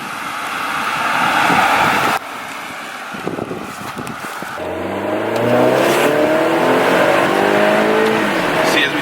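A lowered, tuned car accelerating hard at full throttle, the engine note rising steadily in pitch after a brief gear change, loud and close with wind noise over it.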